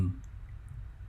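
A single soft computer mouse click near the start, then only quiet room tone.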